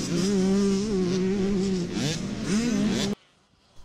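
Several motocross motorcycles race through a whoop section, their engines droning loud and close with steady revving pitch that rises and dips, before cutting off abruptly into near silence.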